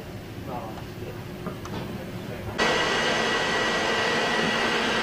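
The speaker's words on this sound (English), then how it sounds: "The pump is designed to run continuously" A Filtrine PCP-3000 closed loop chiller's pump starts up abruptly, turning a low background hum with a voice into a loud, steady whirring drone that runs continuously.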